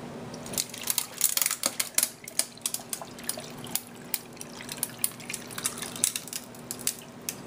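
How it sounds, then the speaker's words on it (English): Water pours over ice into a Yeti 30oz Rambler tumbler, giving irregular clinks, drips and crackles as the ice shifts, close and fairly quiet. "now comes the water"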